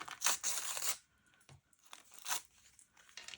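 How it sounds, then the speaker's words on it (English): Colored paper torn by hand in a few close, crinkly rips, a longer tear first, then shorter bursts after a brief pause, quiet and near. "Just gonna rip a piece."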